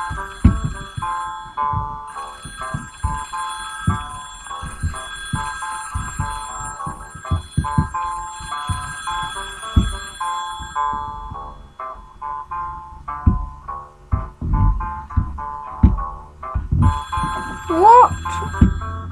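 Telephone ringing in a cops and robbers getaway video game, a repeating electronic ring pattern of rapid bell-like pulses with game music and sound effects around it, fairly loud and clear.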